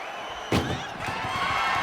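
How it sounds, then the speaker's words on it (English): In the WWE 2K25 wrestling video game, the back doors of an ambulance slam shut with one loud, sharp bang, then a dull rumble of crowd noise fills the rest of the moment. "Shut the doors and this one's over."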